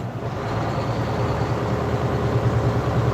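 A truck engine fitted with a new turbo runs at a steady, even drone, deep and continuous, with no voices over it.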